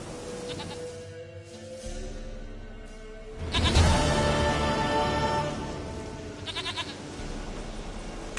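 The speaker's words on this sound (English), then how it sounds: "Goat of mine, dearest, sweetest goat." A goat in the video game The Witcher 3 gives several loud, wavering bleats, with a burst of bleating in the middle and quieter bleats near the start and end over a faint background.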